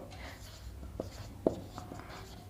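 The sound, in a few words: writing an equation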